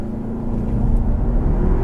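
A 2015 Audi A3 engine in sport mode with traction control off, revving as a steady, loud low drone that swells slightly toward the end, heard close and alone without speech.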